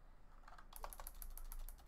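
Quiet, rapid keystrokes on a computer keyboard start partway in and run as a steady stream of close, faint clicks.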